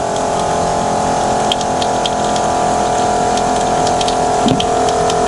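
A small rechargeable water pump in a camper van hums steadily with water running from a tap, a continuous even rush at close range with faint clicks.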